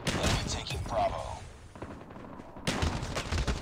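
The BY15 shotgun fires in Call of Duty Mobile on the Nuketown map, loud clustered blasts in bursts with a quieter gap, and a voice talks over the gunfire.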